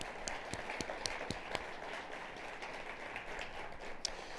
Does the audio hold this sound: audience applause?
yes